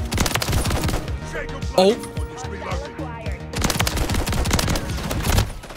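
The JAK Maglift shotgun in MW3 fires in rapid, continuous bursts of sharp, loud blasts, pausing briefly before another dense volley, while a player exclaims over the gunfire.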